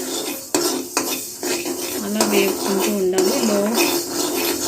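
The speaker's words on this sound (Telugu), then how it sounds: "ఫ్లేమ్లో పెట్టుకొని వేగుతూ ఉండాలి ఇలా దోరగా వేగిపోవాలి" Fenugreek seeds dry-roasting in a pan for an amla pickle, stirred with a spoon: repeated close metallic clinks and scrapes against the pan over a light sizzle, with a faint voice briefly in the background.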